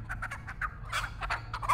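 A chicken in the Texas Chain Saw Massacre video game clucks in quick, choppy bursts, a busy series of short calls close by with no talk over them.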